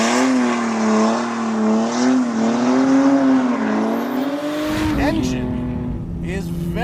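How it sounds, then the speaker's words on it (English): A 400-horsepower turbocharged BMW E30 engine pulls hard out of a corner, its harmonic tone rising steadily and loud for several seconds before cutting off abruptly; a voice talks briefly near the end. "Engine is very strong as I pull out of this corner."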